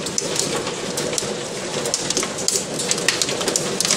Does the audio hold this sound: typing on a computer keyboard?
no